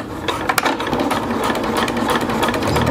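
A sewing machine stitches through thick layers of silnylon tarp fabric, a fast, close mechanical whirr with rapid needle ticking that keeps steady, without talk.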